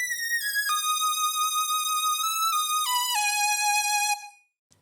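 A high, glassy synth lead like the one in a song sustains a descending run of gliding notes, loud and solo, then cuts off near the end.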